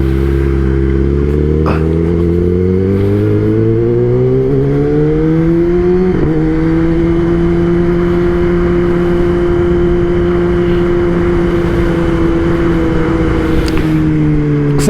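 Kawasaki ZX10R sport bike ridden on a daily commute, its engine droning loud and close with rising rev tones that shift gear partway and then hold steady, no voices over it.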